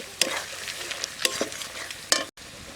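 Ground spices such as cumin paste and coriander powder sizzle and fry over low heat in a pan outdoors in a forest setting for egg curry, with a few sharp stirring scrapes over a steady crackle.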